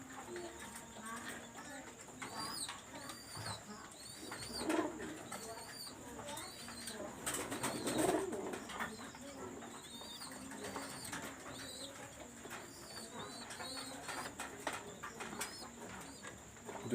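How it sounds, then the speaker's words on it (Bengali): Red-eyed fantail pigeons coo softly and intermittently in a loft, with faint wing flutters and someone speaking over much of it. "দেখেন এখানে রেড আই চোখের ডাবওয়ালা কবুতর"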